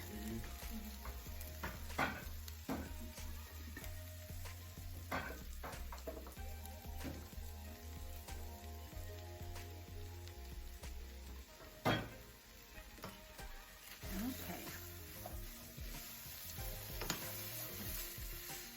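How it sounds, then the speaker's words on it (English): Milk and grease gravy bubbles in a pan for biscuits and gravy, a soft steady simmering hiss broken by occasional utensil scrapes and taps, quiet and close, with no voices. "you're gonna add in the milk and let that boil together for a little bit"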